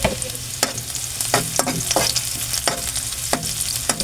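Onion and garlic sauté together in a hot pan for a dish of sautéed shrimp paste, a loud continuous sizzle punctuated by regular scraping stirs of a spatula, no voices.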